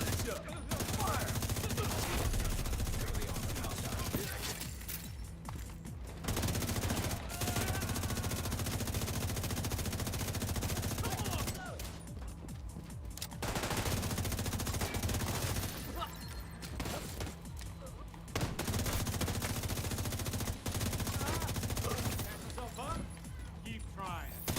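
Gunfire from The Division 2 against civilian militia enemies: sustained automatic fire in repeated bursts with short gaps. Voices speak over the shooting.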